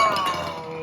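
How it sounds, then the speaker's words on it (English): A diecast toy car, an orange Lamborghini, crashes into a toy dinosaur and knocks it over, giving a short bright clink of metal on plastic with a quick ringing decay, close and alone. "He crashed. That was a big crash. The dinosaur fell over."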